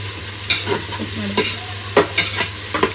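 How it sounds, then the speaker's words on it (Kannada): Onions frying in a pan with repeated stirring strokes scraping through the sizzle, a steady crackle underneath and several sharp spatula clatters, close and fairly loud with no talking. "ಈಗ ಸ್ವಲ್ಪ ಈರುಳ್ಳಿ ಫ್ರೈ ಆಗಲಿ"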